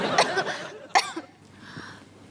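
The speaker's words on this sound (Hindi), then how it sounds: "ये खांसी तो जा ही नहीं रही।" A girl's cough from someone fighting a lingering illness at home, a couple of sharp bursts close by, followed by a softer throat sound and quiet room tone.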